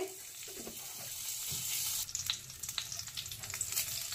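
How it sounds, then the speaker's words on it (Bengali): Ghee sizzling in a hot frying pan over a gas flame, a quiet steady crackle that turns brighter and more spattery partway through, with occasional faint stirring clinks. "এবার ফ্রাই প্যানে আরেকটু ঘি দিয়ে দেব। আর 1 চামচি ঘি দিয়ে দিলাম ফ্রাই প্যানে"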